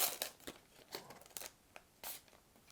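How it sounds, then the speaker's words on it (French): Panini PSG sticker packets are torn open by hand in a quick series of close, sharp ripping and crinkling bursts, with short pauses between them and no talking. "j'ai les 5 pochettes qu'on va s'ouvrir de suite"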